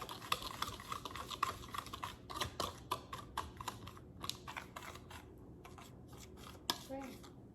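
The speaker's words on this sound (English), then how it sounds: "Just gonna whisk this right on up." Jerk chicken marinade whisked in a bowl, a quick run of light clicking and tapping strokes with a few sharper knocks, close and fairly quiet.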